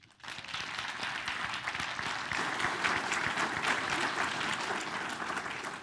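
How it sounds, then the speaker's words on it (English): Audience at a Kenyan leadership forum on elections applauding the panel: a warm, sustained round of clapping that swells quickly and stays dense and steady, easing slightly at the end. "I want us to put a very warm round of applause for the panel."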